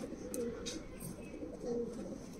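Soft, low coos of Rampuri and Saharanpuri pigeons repeating in a gentle rhythm, with faint rustling in the background.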